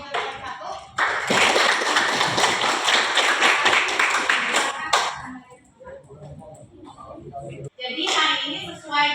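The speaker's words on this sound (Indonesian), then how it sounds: "Beri aplaus dulu untuk kelompok auditor" Classroom applause for a student group in a chemistry lesson: dense clapping from many hands for about four seconds, then a teacher speaks, and a brief burst of claps and voices returns at the end.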